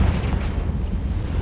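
A Confringo fire spell going off in the Hogwarts Legacy video game on Switch, a dense low rumbling blast that holds steadily for over a second, with no voices.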